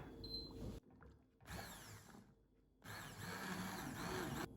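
A blender purées cooked vegetable soup with carrots. The motor whirs loudly in three bursts, with short quiet pauses between them, and the last burst runs longest.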